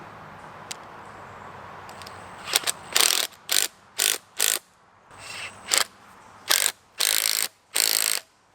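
A clamp being tightened onto penstock pipe for a microhydro turbine: a series of loud, close ratcheting clicks and mechanical rasps in evenly spaced bursts, alone without speech.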